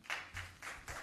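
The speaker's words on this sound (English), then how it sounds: "the rules say there should be no clapping or manifestation" Audience applause at a council meeting, several short bursts of clapping, moderately faint in a hall with no voices.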